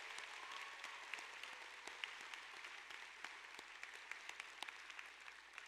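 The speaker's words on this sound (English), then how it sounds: "Let's give a round of applause to the faculty and staff." Graduation audience at the Ridge Point High School 2019 ceremony applauding faculty and staff, a steady, fairly faint wash of clapping from a large crowd that holds evenly throughout without fading.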